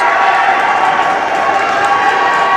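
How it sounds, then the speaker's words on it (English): A crowd at a men's college basketball game, Garrett against Community College of Allegheny, lets out a sustained, loud roar of cheering that fills the whole moment. "That gets a rise out of the crowd."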